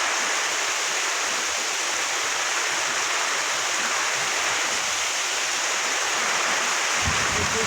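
Heavy rain lashes down in a storm at a village house, a dense, steady roar of water filling the scene from start to finish, with a brief low thump near the end.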